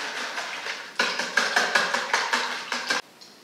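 Eggs and flour being mixed in a bowl, a steady run of sharp taps and clinks as a utensil knocks against the bowl in quick, even strokes, close and clear, ending abruptly.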